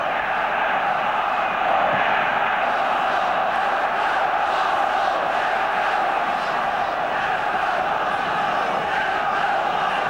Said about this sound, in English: The Arsenal crowd beginning now to make a wee bit more noise than the Liverpool people.